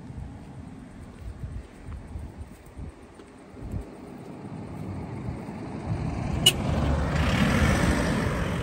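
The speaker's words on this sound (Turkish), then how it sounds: "Bu da ilaç arabası. Emre sinek ilaç arabası." A fly insecticide spraying truck rolls slowly past on a street, its low engine rumble building from a distant murmur to a louder, closer roar with a hissing spray near the end.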